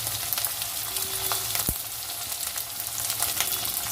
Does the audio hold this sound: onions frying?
yes